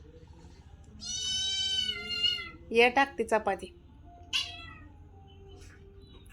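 A cat gives one long, drawn-out meow close by, then a person speaks over low background noise.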